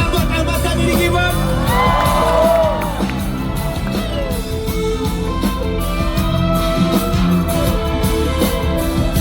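A concert crowd cheers and applauds for the keyboard player at a live show, loud whoops and yells over ongoing music, with a voice heard among the noise.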